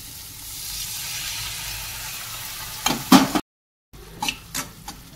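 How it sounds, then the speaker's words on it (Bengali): Turmeric, chilli, cumin and coriander powders fry in a pan with a splash of water, a steady close sizzle broken by a few sharp stirring scrapes, then a brief gap and more spoon clatter. "এবার সামান্য একটু জল দিয়ে খুব ভালো করে কষাতে হবে"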